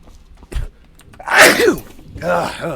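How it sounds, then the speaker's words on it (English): A single loud, close human sneeze with a sharp intake and explosive burst, followed by a trailing vocal exhale. "That, my friends, was one hell of a sneeze."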